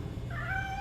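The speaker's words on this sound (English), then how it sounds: "Aw, that sounds like a stray cat." A stray cat meows once inside a Gotham Knights game scene, a short rising cry over a low steady background hum.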